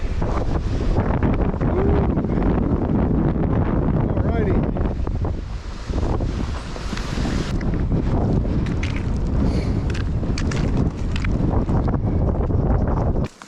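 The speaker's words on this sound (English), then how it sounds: "I'm on the wind side of the mountain too, so it's cold, windy." Strong wind roars and buffets the microphone continuously on the windward side of a steep mountain, loud and close, with a brief spoken word partway through.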